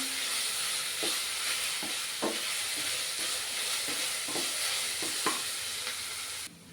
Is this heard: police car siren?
no